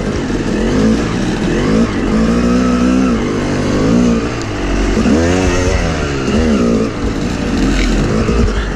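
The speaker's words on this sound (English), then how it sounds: "Big bike, man, I could ride that thing endlessly." A big dirt bike engine revs continuously while being ridden, a loud, close, steady drone with rising and falling pitch sweeps as the throttle opens and eases.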